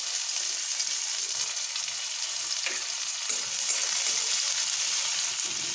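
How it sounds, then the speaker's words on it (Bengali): Green chilli and onion frying in hot oil for a fish bhujia, a steady broadband sizzle with occasional stirring scrapes, close and continuous throughout. "এবার কাঁচা লঙ্কা আর পেঁয়াজটা দিয়ে ভাজা ভাজা করে নেব।"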